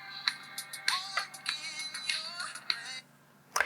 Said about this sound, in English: I want to set this song as my current ringtone